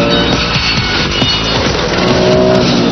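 Porsche race car engine roaring steadily at close range during a rolling race start, with dense continuous engine noise and faint tire sounds throughout, no voices.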